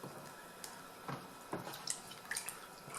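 Water drips and splashes while rinsing debris off a freshly dressed Japanese waterstone, a few soft wet patters and trickles close by, fairly quiet.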